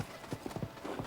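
Horse hooves clip-clop in The Legend of Zelda: Tears of the Kingdom, a quick steady rhythm of hollow thuds at a trot, close and clear over a faint ambient bed.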